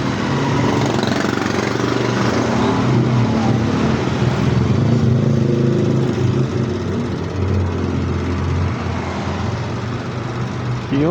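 Small defective mini electric fan motor running with a steady, dense whirring drone, close and continuous throughout, with no talk over it.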